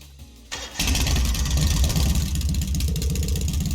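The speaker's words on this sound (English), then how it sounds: "Right then, first is starting up the engine." A motorcycle engine in the video game Trails of Cold Steel cranks and catches, then settles into a loud, steady rumbling idle with a slight rev.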